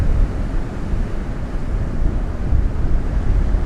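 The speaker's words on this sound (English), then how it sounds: "Windy and stormy," Strong wind buffeting the microphone during stormy weather at Seal Beach, California, a loud, constant low roar with no voices.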